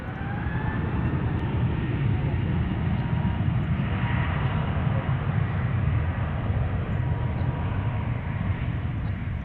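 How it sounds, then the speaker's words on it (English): An Airbus A321 jet departs from Dallas/Fort Worth (DFW) airport, its steady, loud broadband engine roar holding constant for the whole stretch with no pauses. "A321 departure."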